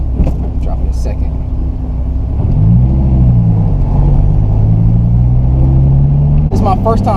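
A Dodge Viper SRT-10 V10 revs up into a deep, loud, close rumbling drone, with a sharp pop near the end and a voice talking over it at the start.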